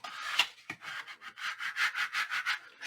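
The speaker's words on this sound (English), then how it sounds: "And burnish." A burnishing tool rubbed briskly back and forth over patterned paper for a 10x10 scrapbook album, making a quick series of close, dry scraping strokes in a steady rhythm.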